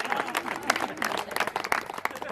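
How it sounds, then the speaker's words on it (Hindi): Guests at a golden wedding anniversary celebration clap together in a steady, fairly close burst of applause that runs the whole moment, with faint crowd murmur beneath the dense patter of hands. "सब लोग तालियां बजा दो"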